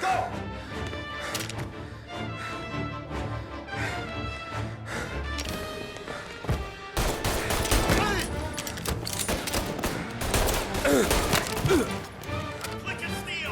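Dense shootout gunfire from the Mafia video game on PS4, a busy barrage of shots and impacts layered over music and effects, growing louder and more chaotic midway, with voices calling out now and then.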